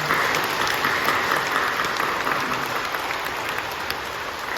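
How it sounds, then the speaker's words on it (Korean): Dense, sustained applause from a large church congregation at a Thanksgiving Sunday service, loud and continuous with no talking, slightly tapering toward the end. "우리 뜨거운 감사로 하나님 앞에 영광의 박수를 드립니다"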